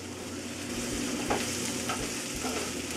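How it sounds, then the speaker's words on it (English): Schezwan potatoes tossed with fried vegetables in a pan, a soft sizzling fry with a few scraping stirs of a spoon, quiet and close with no talk. "Mix everything together."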